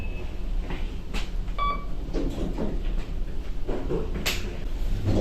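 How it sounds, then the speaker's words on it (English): Lift doors on a boat rumble and clunk open amid steady machinery noise, with a short beep partway through and scattered knocks. "Doors opening."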